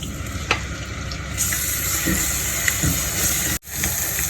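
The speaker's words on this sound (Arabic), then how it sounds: "احط شويه زيت ببصلايه ونص قرن حامي" Onion fries in hot oil in a pot, giving a loud, close, steady sizzle throughout with a few soft clunks and a brief dropout near the end.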